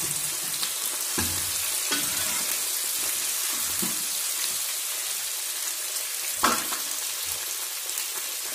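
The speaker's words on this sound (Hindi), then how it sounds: "आलू और फूलगोभी दोनों को हमने अच्छे से फ्राई कर दिया है" Potatoes and cauliflower fry in a pan with a constant broad sizzle, broken every second or so by scraping stirs of a spoon, and one sharper knock toward the end.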